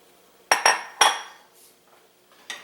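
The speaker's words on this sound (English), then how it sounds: "one of my ancient wooden spoons that has notches on it, from tapping on the edge of the pan" An old, notched wooden spoon knocks against the edge of a pan while cooking corned beef hash with onion: three sharp raps close together, then a single later knock, each ringing briefly in a quiet kitchen.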